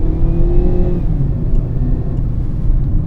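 A Lada Granta car accelerating downhill, its engine note rising loudly and steadily over road rumble, then settling into a constant roar, no voices.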